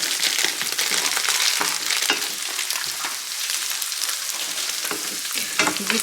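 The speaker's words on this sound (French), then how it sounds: "on fait revenir dans un petit peu d'huile, oignon, ail avec le chorizo" Onion, garlic and chorizo fry in a little oil, giving a loud, steady sizzle broken by the scrape and clatter of stirring, with no voices.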